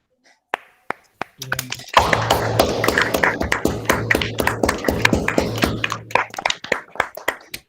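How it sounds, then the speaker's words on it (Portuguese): Webinar participants clap over open microphones for a speaker, several people applauding in uneven overlapping bursts with sharp taps and a low hum, trailing off into a few isolated claps, with voices mixed in. "abrir os microfones e aplaudir o Windberg, para que se sinta um pouco mais acolhido aqui"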